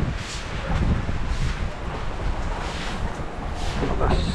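Wind blowing outside a house during a heavy rainstorm with flooding in Bucana, a steady broadband rush with low buffeting gusts, loud and continuous, with faint voices in the background.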